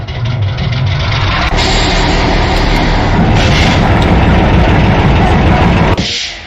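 A loud, low diesel locomotive engine in the video game Garry's Mod starts and builds into a heavy drone, holding steady before cutting out near the end.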